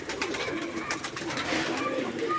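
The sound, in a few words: pigeons cooing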